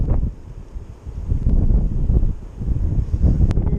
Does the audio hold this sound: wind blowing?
yes